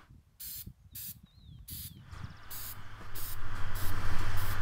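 Spray gun applying a textured coating during a leaf spring shackle build: short hissing bursts with gaps, then a continuous, growing hiss with mechanical rattling beneath it, close and loud.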